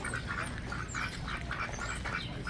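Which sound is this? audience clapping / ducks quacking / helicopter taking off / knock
ducks quacking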